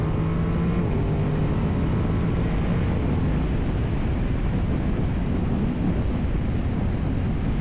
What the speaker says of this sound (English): this should be a lot of wind now because I've got direct wind coming at me